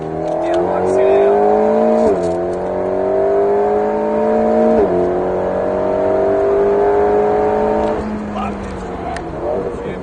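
An Alpine A110S accelerates hard on the Alès race circuit, its engine note climbing loud and close in two rising sweeps broken by quick gear shifts, then easing off near the end.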